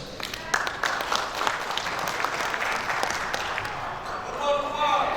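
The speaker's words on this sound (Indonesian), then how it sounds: "Sekali lagi kita beri aplaus." Audience clapping at a KONI Riau sports federation gathering in Indonesia, a steady wash of many hands with sharper individual claps, going on under a voice over the sound system.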